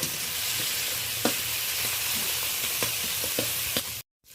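Onion, tomato, green chilli and ginger-garlic paste stir-fried in a pan give a steady close sizzle with occasional scraping stirs, cutting off abruptly at the end.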